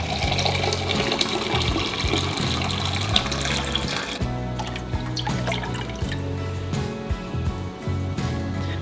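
Water pours into a pot for a carrot pickling brine with white vinegar, a steady close splashing flow with some dripping, its tone shifting midway as the stream changes.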